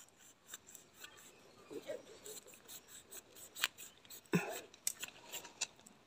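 Scissors snipping a tough dragon fruit stem while harvesting in a home garden, quiet rustling and handling punctuated by a few sharp, close snips and clicks at irregular intervals.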